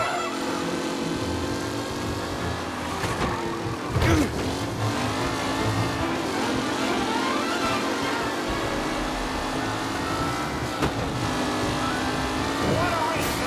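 Race cars roar through a race in the Mafia video game on PS5, their engines droning steadily and loudly throughout, with a brief burst of revving or passing near the middle and a commentator's voice talking over the action.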